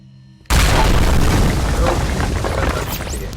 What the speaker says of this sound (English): That explosion may have sealed us inside the ruins while they attempt to scrap our ship.